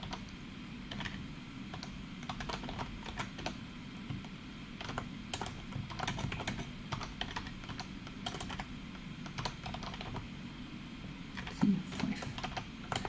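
Steady close typing of code on a computer keyboard for an ATmega microcontroller, with quick irregular key clicks running throughout, occasional brief pauses and a slightly louder cluster near the end, no voices.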